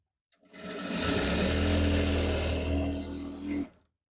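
A sewing machine runs in one continuous close burst of about three seconds, stitching the inner seam of a pair of joggers with a steady rapid whir that rises slightly before stopping.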